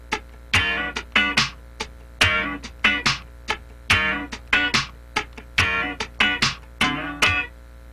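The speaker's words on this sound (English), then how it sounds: "Now if we raise the left hand on the third 16th, we get a little more syncopated sound like this." Syncopated funk rhythm guitar with the fretting hand lifting on the third sixteenth, giving short muted chord stabs in a choppy repeating pattern, close and clear with no talking.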